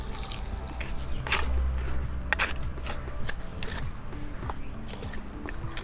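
Water trickling and dripping onto potting mix packed in a container, set out for sowing long cowpea seeds; uneven splashes and drips sound close, with small clicks between them and no talk.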